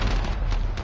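A grenade goes off in a video game as a loud, dense, sustained boom with rumbling low end and crackling bursts, heard alone with no talk.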